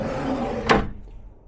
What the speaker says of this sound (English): We've got our desk drawer. Again, nothing in it.